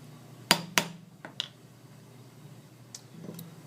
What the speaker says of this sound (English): use the flat surface on the anvil along with the soft hammer to slowly pound and re-flatten areas of the metal